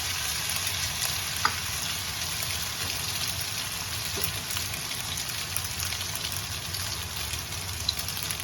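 Noodles frying in a pan for a noodle-and-sardine omelette give a steady, close sizzle with soft crackles and a couple of faint clicks, with no talking.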